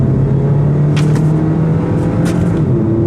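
A 2017 Kia Niro hybrid accelerating in power mode, with a steady, loud engine drone and a sustained hum that rises slightly in pitch as the car pulls.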